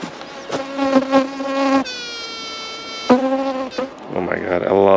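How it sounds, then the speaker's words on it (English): A swarm of wasps buzzes close by in shifting, whining tones that rise and fall as insects pass near. "Oh my god, a lot of wasps."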